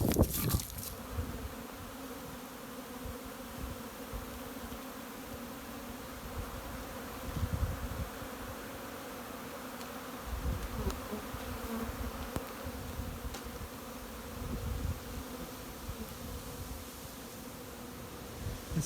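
Honeybees buzz in a steady, faint, continuous hum, with a few louder bees drifting close past now and then.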